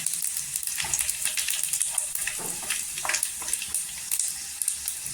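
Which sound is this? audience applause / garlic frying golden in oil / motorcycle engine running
garlic frying golden in oil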